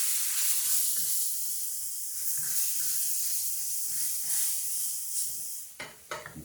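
Flour roux for cream gravy sizzles steadily in a pan while it is stirred, a loud continuous hiss that breaks into a few scraping stirs near the end.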